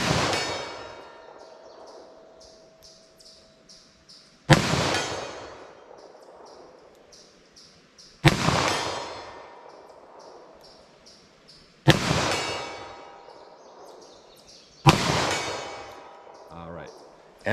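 Five sharp, loud .38 Special revolver shots from a 2-inch barrel firing +P+ 110 gr rounds into ballistic gel, spaced roughly three to four seconds apart, each with a ringing tail that decays before the next shot.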